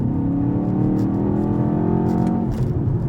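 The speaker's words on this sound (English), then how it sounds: "It's a speaker going ba-bum, ba-bum, ba-bum to make it sound like the exhaust is actually cracking." Simulated exhaust note piped through the cabin speakers of a 2024 BMW X2 while driving, a steady engine-like hum with rhythmic pulsing booms throughout, heard from inside the car without talk.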